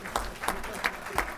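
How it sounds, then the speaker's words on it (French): Applause from an audience at a 2017 agricultural economics conference, rising in a few uneven bursts of clapping at a moderate level, with a voice heard faintly underneath. "je voudrais qu'on vous applaudisse très très fort"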